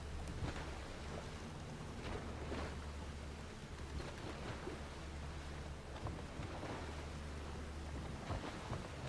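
A thunderstorm in Horizon Forbidden West brings a steady, soft hiss of falling rain over a low rumble, with occasional deeper thunder swells throughout.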